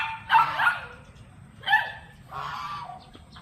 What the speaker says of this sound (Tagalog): Yan yung mga bibi natin tsaka gansa.